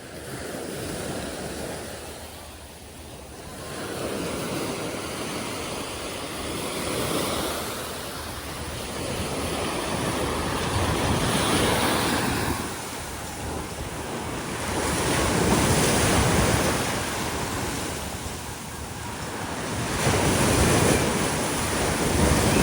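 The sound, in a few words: ocean waves at high tide on Boracay beach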